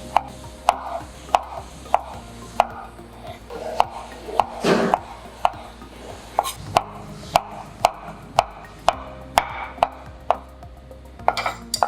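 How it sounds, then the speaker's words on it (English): Knife chopping meatballs or sausages into small pieces on a cutting board, a steady series of sharp, close knocks roughly every half second, with one brief scraping rustle midway. "Meatballs or sausages cut into small pieces."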